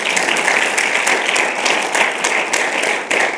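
Steady applause from an audience honouring a congressman's wife of thirty years at a law school alumni award ceremony, dense clapping at an even level throughout.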